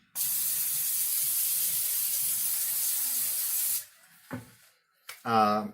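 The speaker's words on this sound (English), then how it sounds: "I'm going to spray this, my vegetable oil, spray the heck out of it" Vegetable oil sprays steadily from a can onto a sheet pan for several seconds, a continuous close hiss, followed by brief clatter and a voice.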